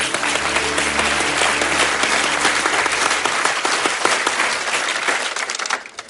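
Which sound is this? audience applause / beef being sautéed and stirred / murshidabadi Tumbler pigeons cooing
audience applause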